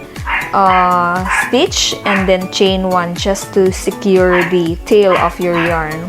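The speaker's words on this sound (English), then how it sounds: "Very noisy mini pincher." Small, sharp barks from a miniature pinscher at home break in repeatedly, mixed with continuous nearby speech from a woman giving crochet instructions.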